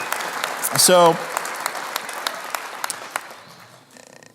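A commencement audience in a hall at a University of Idaho Idaho Falls ceremony applauds alumni, with scattered claps trailing off after a brief spoken word.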